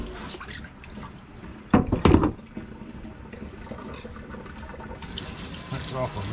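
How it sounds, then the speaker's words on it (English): Tap water runs in a sink while a cutting board is rinsed, a low steady flow with a loud splashing surge in the middle and brighter gushing toward the end, close by. "Rinse off our cutting board."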